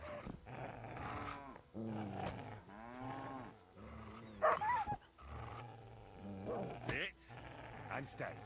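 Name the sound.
dog growling in the video game Kingdom Come: Deliverance 2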